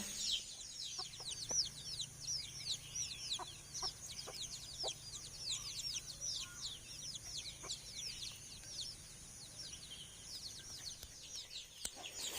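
A flock of free-range farm chickens clucks and chatters at feeding time, a dense run of overlapping calls at moderate distance, with occasional sharp knocks and rustles nearby and no talking.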